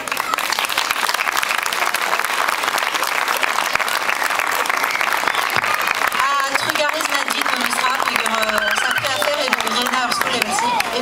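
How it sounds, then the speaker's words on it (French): Sustained, loud applause from a festival crowd thanking the Fest-noz organisers at the Diwan Saint-Brieuc school's 40th anniversary, with voices mixing in toward the end. "merci de les applaudir."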